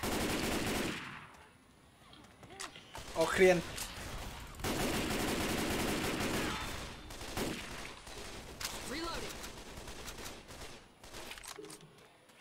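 Scattered bursts of gunfire against zombies in Left 4 Dead 2, fairly quiet shots and volleys spread across the stretch with pauses, while players talk over the game.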